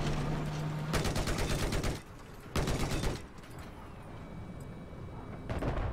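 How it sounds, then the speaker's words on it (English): Automatic gunfire in Battlefield 4, two dense rapid bursts about a second long each and a third starting at the end, loud and close over a constant noisy battle background. "Just shooting."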